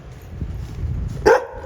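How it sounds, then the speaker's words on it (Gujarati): A single sharp bark from a pet dog rings out near the end, fairly close, over a low background rumble. "અમારો ડોગી ડોન"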